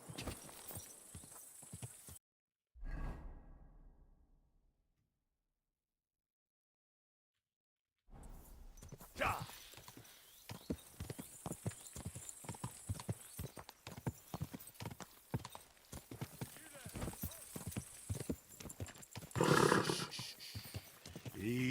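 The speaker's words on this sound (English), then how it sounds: "Easy, good horse." Horse hooves clip-clopping in Kingdom Come: Deliverance 2, a brief burst and silent gap followed by a steady run of close hoofbeats with a whinny and some background clatter.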